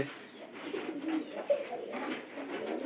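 A domestic pigeon coos in low, repeated throaty phrases, close and steady, with faint background noise and no voices.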